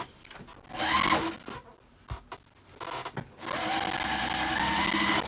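A sewing machine stitches the lining of an Apothecary tote bag in short close bursts, stopping and starting twice before a longer steady run at the end.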